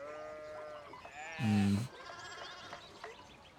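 A sheep in the historical adventure game Pentiment gives one loud, clear bleat lasting about half a second, set against quiet background music.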